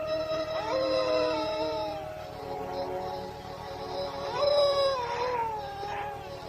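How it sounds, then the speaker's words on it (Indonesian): A dog howls in long, wavering, rising and falling wails, close and fairly clear, with a second howl swelling near the end. "Lolong anjing."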